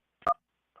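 A single loud telephone keypad tone from pressing 2 to leave a voicemail, a short dual-pitched beep, followed by a much fainter second beep a moment later.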